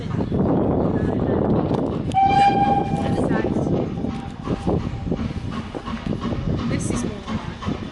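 A heritage train on the Severn Valley Railway rumbles along steadily nearby, with a short whistle blast partway through and people talking over the running noise.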